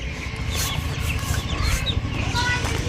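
A chicken clucks on a rural household farm, with short irregular calls over steady background noise and faint voices.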